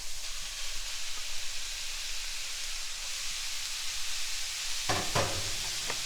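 Ground beef and sausage hit a hot pan together, a dense steady sizzle at close range with a few scraping, clattering bursts near the end, and no one speaking.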